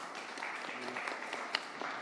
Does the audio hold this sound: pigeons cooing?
no